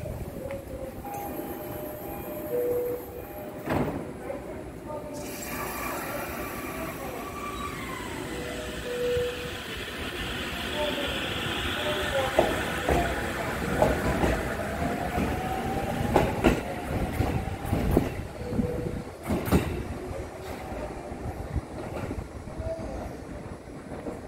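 A JR Musashino Line train departs Yoshikawa Station, a curved platform, its wheels clacking and rumbling over rail joints as it pulls away, with brief squeals and station ambience throughout.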